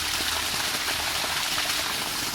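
Water gushes out in a village garden as a continuous, even spray-like hiss, close and steady throughout, with no talking.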